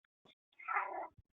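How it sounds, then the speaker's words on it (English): A house cat lets out a single drawn-out meow, close and fairly clear, with a couple of short soft chirps just before it and quiet all around. "Can you hear my cat?"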